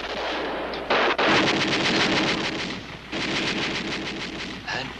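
Heavy gunfire and explosive bursts from a war TV drama set in wartime, a dense, loud barrage of repeated shots and booms with brief gaps, with no speech over it.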